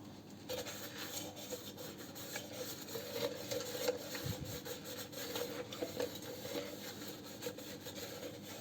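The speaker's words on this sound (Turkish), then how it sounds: "süngerle temizleyeceğiz arkadaşlar" Steady scrubbing with a sponge inside a badly yellowed, burnt teapot kettle with a drop or two of dish detergent, a continuous close rubbing and rasping that runs throughout with small irregular strokes.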